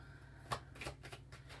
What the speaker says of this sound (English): Give it one more little shuffle here.